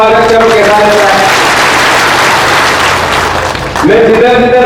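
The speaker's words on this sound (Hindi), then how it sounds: "जरा एक बार जोरदार तालियों से उनका स्वागत करो" Loud crowd applause at a Congress party rally in Rajasthan, a dense steady roar of clapping that dips briefly before a voice speaks over the public address near the end.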